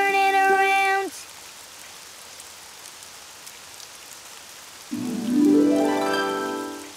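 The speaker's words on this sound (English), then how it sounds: "Oh, it's raining outside." Cartoon rain falls outside as a soft, steady hiss between short musical tones, faint and even with no voices over it.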